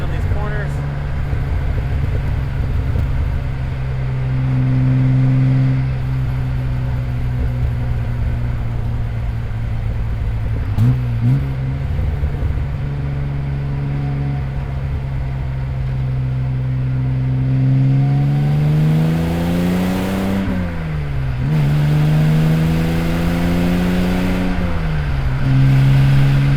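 A 1970 Jaguar XKE E-Type roadster cruises steadily in third gear at about 50 mph, its engine holding a continuous drone that rises and falls in pitch with throttle changes, heard close from inside the open car, with someone talking over it.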